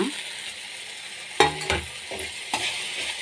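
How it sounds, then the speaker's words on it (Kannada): Grated coconut and tomatoes frying together in a pan, with a steady sizzle running throughout and a few louder scraping stirs of a spatula. No one speaks. "1 ನಿಮಿಷಗಳ ಕಾಲ ಎಲ್ಲವನ್ನು ಮಿಕ್ಸ್ ಮಾಡಿ ಫ್ರೈ ಮಾಡೋಣ."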